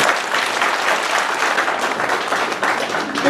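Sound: audience applauding the President

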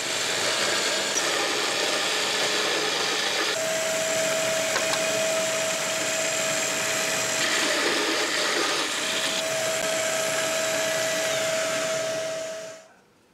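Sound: cutting a hole into a wooden block

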